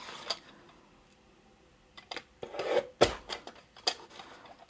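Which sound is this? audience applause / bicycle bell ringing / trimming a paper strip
trimming a paper strip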